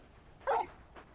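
Torgal, a large dog in the game Final Fantasy 16, lets out a single loud bark close up, followed by a fainter short sound a moment later.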